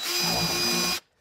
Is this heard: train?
no